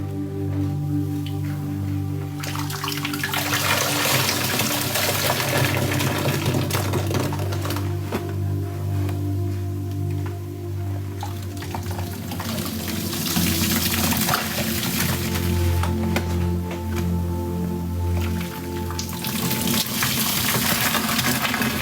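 Laundry powder detergent and dish soap are dumped and poured, making a steady close-up hiss and sizzling, fizzy rush that swells and eases in waves over a long stretch, with no talking.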